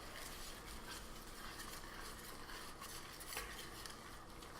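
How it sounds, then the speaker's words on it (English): Rinsed corn is stirred into cornbread mix in a bowl, giving a continuous close scraping and mushing of a spoon through thick batter, steady and fairly loud. "And we have your corn here that we have rinsed right inside the mix. Go ahead and stir that up."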